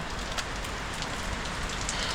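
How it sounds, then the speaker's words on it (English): Steady rain falls close by, a dense even patter of drops striking a surface with no pauses and no voices. "now I'm dripping in rain"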